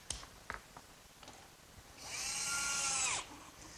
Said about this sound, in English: my electric jigsaw sure makes quick work of finishing up that slot